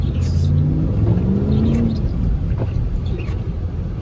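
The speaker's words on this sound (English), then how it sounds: "In Minnesota, we just go outside and start driving normally." A car drives through deep snow on a Minnesota street during a big snowstorm, its engine giving a loud, close, steady low rumble with slight revving throughout.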